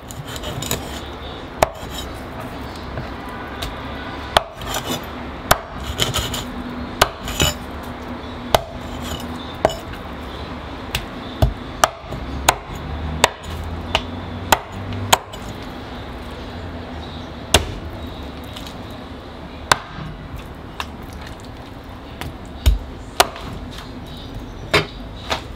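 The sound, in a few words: chopping fish bones into small pieces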